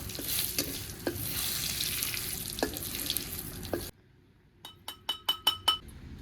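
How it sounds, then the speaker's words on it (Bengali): Cumin seeds sizzle in hot oil for a Bengali bottle gourd curry, a steady crackling hiss with small pops lasting about four seconds. It cuts off abruptly, followed by a quick run of bright glassy clinks. "তেলটা গরম হয়ে গেছে এবার কিছুটা পরিমাণ জিরে দিয়ে দিলাম ভালো করে ভেজে"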